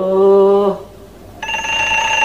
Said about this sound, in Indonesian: Maaf sebentar, ada telepon.